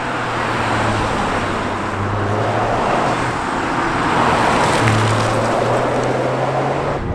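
A Toyota GR Yaris GR-Four all-wheel-drive hatchback corners fast on a slippery, greasy road, its engine humming in a steady drone that dips and rises between bends over continuous road and wind noise.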